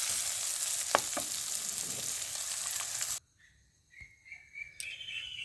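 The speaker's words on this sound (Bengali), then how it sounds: "সুন্দর করে লাল লাল করে ভাজতে হবে।" Onions fry in hot oil in a home kitchen, a loud steady sizzle with scattered pops that cuts off abruptly, leaving a quieter room with faint clinks and soft background sounds.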